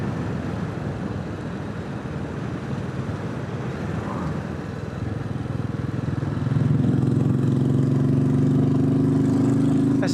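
A Royal Enfield motorcycle drones steadily while being ridden, with wind rush and a constant engine hum that deepens and grows slightly louder partway through as the revs rise.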